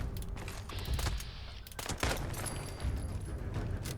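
Explosive 10mm auto pistol rounds fire in the Fallout 76 video game, several sharp quick blasts in succession with short crackling decays, fairly quiet overall.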